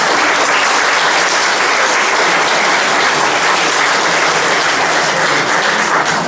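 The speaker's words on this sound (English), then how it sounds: "Let's have a round of applause for the candidates." Loud, sustained audience applause for commissioner candidates at a public forum, a dense, even wash of clapping lasting the whole stretch without speech.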